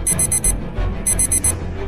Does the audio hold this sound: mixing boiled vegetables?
no